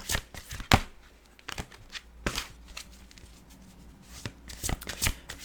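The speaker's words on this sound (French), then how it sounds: "On va tirer une carte pour finir." Oracle cards are shuffled and drawn in quick riffling bursts and sharp snaps, with brief pauses between them. The sound is close and alone, with no talking.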